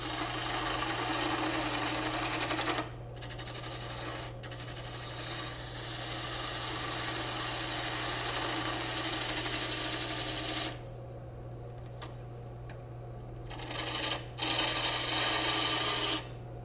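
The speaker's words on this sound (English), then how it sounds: "And I may just turn my dust collector on" Dust collector running in a woodworking shop, giving a steady, loud droning roar with a constant low hum that holds throughout, briefly dipping and changing character near the end, with no talk.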